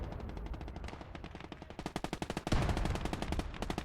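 Half-track machine gun fire in the World War II game Gates of Hell: Ostfront, heard as rapid bursts of close, loud shots that grow denser and heavier partway through, with no talk over it.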